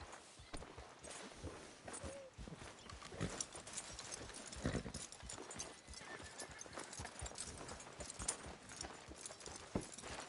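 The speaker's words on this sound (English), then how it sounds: "Are you gonna mount that new horse of yours or not?" Horse hooves walk at a steady clip-clop rhythm in the Red Dead Redemption 2 video game, close and continuous, with a faint voice briefly in the background.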